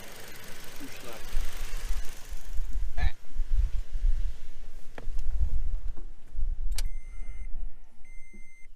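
A Toyota Tacoma pickup with 36,500 miles idles with a low rumble under a voice, then shuts off, followed by a few electronic chime beeps.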